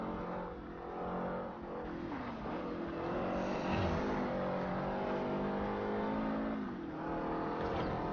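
Race cars in the video game Forza Horizon, engines droning and revving steadily as gears shift, heard up close throughout with a continuous motor roar and no talk.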